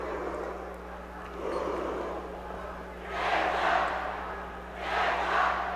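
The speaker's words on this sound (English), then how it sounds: "And there you can hear the Osseo students off to our left." Osseo high school students cheer at a boys' hockey quarterfinal, the crowd chanting in loud rising swells from off to one side over a steady arena hum.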